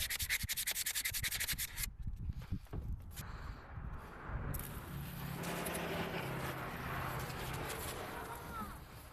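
A plastic GMT400 truck grill is sanded by hand, with rapid rhythmic rubbing strokes up close, a brief pause with scattered handling knocks, then steadier softer scraping with a low hum underneath.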